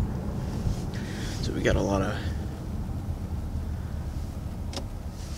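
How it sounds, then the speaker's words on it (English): Strong, frigid wind of around 21 degrees Fahrenheit buffets the microphone outdoors beside a car, a steady roar throughout, while someone talks briefly over it. "a lot of wind, and it's just frigid out."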